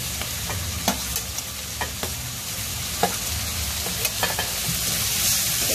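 Ginger garlic paste and onions fry in a pan for a paneer masala, with a continuous close sizzle broken by irregular scraping strokes of a spatula as the mixture is stirred. No one speaks.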